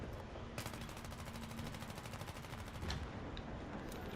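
Rapid automatic M4A1 rifle fire in Battlefield 3, a sustained burst of evenly spaced shots over steady battlefield noise, with a few sharper louder reports near the end.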